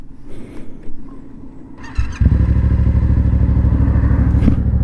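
A motorcycle engine idles low, then at about two seconds bursts into a loud, steady, close-up revving roar that holds to the end, with no talking over it.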